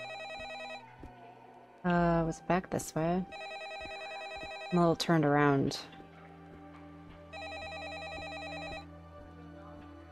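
A telephone rings repeatedly in the game Don't Forget, an electronic bell in evenly spaced bursts over a low ambient hum, with someone talking between and over some of the rings.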